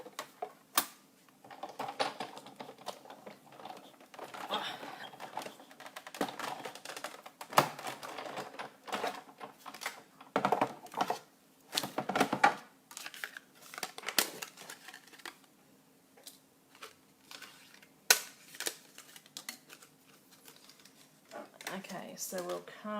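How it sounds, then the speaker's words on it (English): Scissors cut through a sheet of acetate for a star-shaped craft, giving scattered crisp snips and rustles in bursts with pauses between. "you'll see how easy the acetate is to cut as well."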